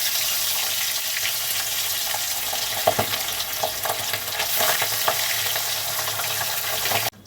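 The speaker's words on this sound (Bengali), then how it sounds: "এই যে বন্ধুরা, আমার মাছগুলো এরকম করে আস্তে আস্তে করে ভেজে তুলে নেবো।" Papda fish frying in hot oil in a home kitchen, giving a steady, close sizzle with a few soft clinks from stirring and no talking.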